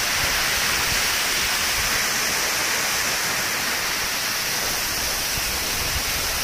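Water at Chunayanmakkal waterfall in Kerala pours down in a constant, dense roaring hiss that stays even and unbroken from start to end, with no talking.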